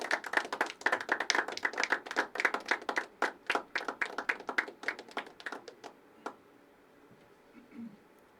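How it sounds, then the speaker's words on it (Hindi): A crowd at a poetry open mic claps steadily for several seconds, sharp overlapping hand claps that thin out and fade to near silence toward the end. "जब तक स्टेज पे नहीं थे तब तक तालियां बजाते रहना चाहिए"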